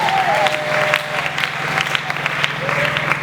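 A church congregation cheering and applauding the Lord, sustained clapping and crowd noise with voices mixed in throughout, fairly loud and steady.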